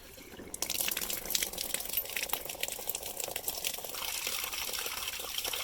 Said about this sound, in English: let's turn on the spout and we'll fill up this bucket here.